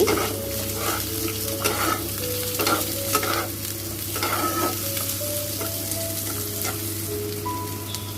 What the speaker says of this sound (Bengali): ফোড়ন দিয়ে কেটে রাখা আলুগুলোকে দিয়ে দেব, দিয়ে একটু নাড়াচাড়া দিয়ে ভেজে নেব